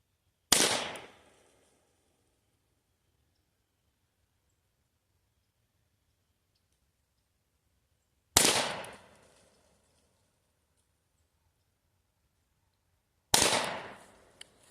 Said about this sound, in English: I'm just going to put 3 shots in it